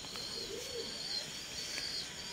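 Soft, low pigeon coos drift through a faint outdoor hiss, a few gentle murmuring calls with thin chirps in the background.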